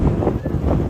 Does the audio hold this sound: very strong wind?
yes